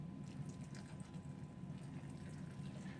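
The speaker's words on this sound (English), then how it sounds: "now it's down to just watering it" Water pours steadily onto microgreens trays being watered indoors, a soft continuous splashing wash that stays even and close throughout with no voices.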